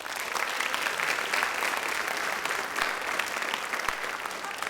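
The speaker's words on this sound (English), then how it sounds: "let's give all of them a round of applause" A high school theater audience gives the performers a sustained, even round of applause: continuous dense clapping at moderate volume that never lets up across the clip.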